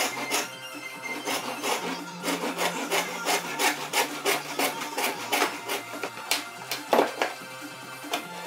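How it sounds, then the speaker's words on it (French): A hand saw cuts wooden pieces to length for a cabinetmaker's tool chest, giving steady, close rasping strokes in an even back-and-forth rhythm with no voices. "Il ne reste plus qu'à les scier à la bonne longueur."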